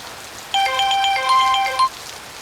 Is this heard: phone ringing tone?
yes